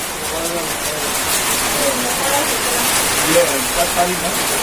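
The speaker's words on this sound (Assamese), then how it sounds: "এইটো পাহাৰত বৰষুণ।" Steady, heavy rain pours down close by on a hill at Laitlum, Meghalaya, in a continuous hiss, with faint voices underneath.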